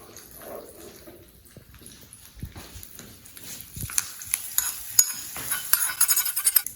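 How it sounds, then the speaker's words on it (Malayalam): Hot tempering oil is poured over a bowl of onion and spice mix, quiet spoon clinks first, then a rising crackling sizzle that grows louder and brighter toward the end. "ഇനി നമ്മളിത് നമ്മുടെ ഉള്ളി മിക്സ് ചെയ്ത് വെച്ചിരിക്കുന്നതിനകത്ത് നമ്മളിത് ഒഴിച്ചു കൊടുക്കാം."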